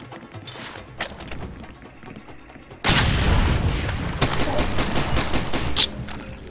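Gunfire in the Far Cry 2 shooter game, a few sharp early shots and then a sustained loud burst of firing from about three seconds on, with a brief voice under it.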